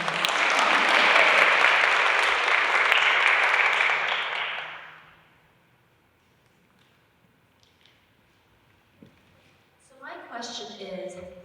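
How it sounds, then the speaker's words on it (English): Warm applause from a conference audience for a microphone runner, a full burst of clapping lasting about four seconds and then fading away into near silence, with a voice starting to speak near the end. "Let's have a round of applause for our microphone runner"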